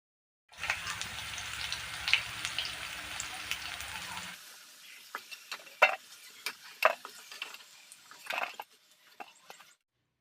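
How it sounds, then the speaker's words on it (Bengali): Potato pieces frying briefly in hot oil, a steady loud sizzle for the first few seconds that cuts off abruptly, followed by quieter scattered pops, clinks and crackles. "আলুগুলো আগে ভাজা করে তুলে নেব"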